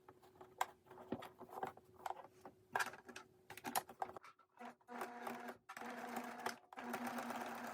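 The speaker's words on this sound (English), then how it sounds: "If your sewing machine is pretty tough, you can stitch along these edges." A sewing machine stitches a bodysuit seam in quick bursts of rapid stitching, stopping and starting several times, close by with no talking.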